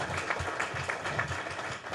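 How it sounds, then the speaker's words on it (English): A panel-discussion audience applauds the panelists, a dense, even wash of clapping at moderate level throughout. "why don't we give our panelists a round of applause for coming out"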